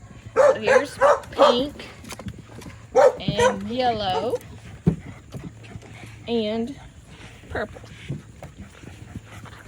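Several young puppies bark and yip in short bursts, with some whimpers, close by and loud, while someone talks over them.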